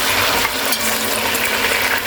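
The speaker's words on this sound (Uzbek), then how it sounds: "Mana kartoshkani birinchi bo'lib qovurib olamiz." Large cubes of potato, rinsed in iced water, fry in a pan with a loud, even, continuous sizzle heard up close, with no talking.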